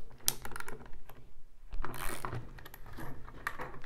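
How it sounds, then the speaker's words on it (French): A cheap ratchet tool from Temu clicks and clatters as its socket is changed, a quiet run of ratcheting pawl clicks and small metallic knocks with a short pause in the middle. "Bon, on va changer de douille parce que celle-ci, elle a été enfoncée à max."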